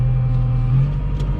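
Two farm tractors and a lorry idle and run steadily nearby while bales are loaded, a continuous low engine rumble with a strong deep hum and no voices.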